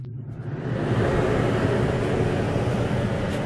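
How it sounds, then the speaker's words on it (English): An RV rooftop air conditioner kicks on, its broad whooshing fan and compressor hum swelling up within the first second and then holding as a steady, fairly loud drone. "We're going to fire up the AC."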